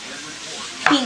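A knife cuts through partly cooked chicken, undercooked in the middle, on a board; after a quiet stretch comes a single sharp chop near the end.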